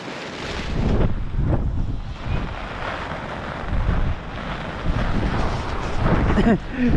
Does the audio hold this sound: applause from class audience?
no